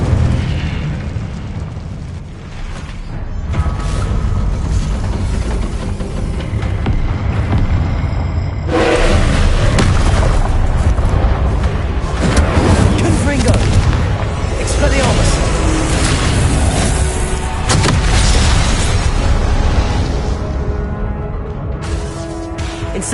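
Incendio and Confringo fire spells blasting in Hogwarts Legacy on PS5, with loud continuous roaring bursts and booms layered over a dense game soundscape for over twenty seconds, a sharp surge partway through.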